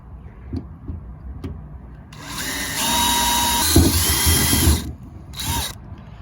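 A power drill whirs loudly for a few seconds drilling into a pickup truck, stops, then gives one short final burst, with faint knocks and handling noises before it.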